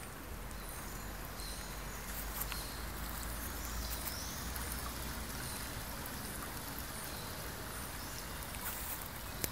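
Polluted creek carrying milky sewage through Parque Continental, a continuous trickling, gurgling flow of water, steady and fairly faint outdoors with no talk.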